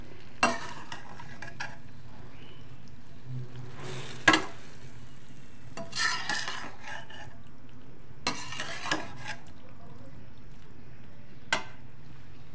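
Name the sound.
macaroni cooking in a pan with vinegar and soy sauce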